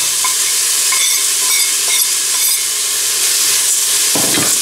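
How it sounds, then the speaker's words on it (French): Rice frying with vegetables in a little fat in a pan, a loud, continuous sizzle with stirring scrapes throughout. "que je fais revenir avec les légumes pendant 2 minutes juste avec la matière grasse"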